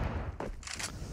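A single gunshot in Counter-Strike on the Inferno map: a short sharp crack followed by a brief bright burst of echo, fairly faint and over quickly.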